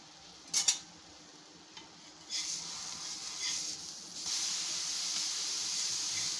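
Spiced bread toast fries in oil on a dosa pan over a medium flame, giving a steady close sizzle and hiss that grows louder after a couple of brief clinks from a utensil.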